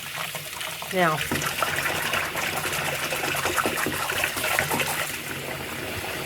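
Cold water runs steadily from a tap with a continuous splashing hiss, while a person talks briefly over it.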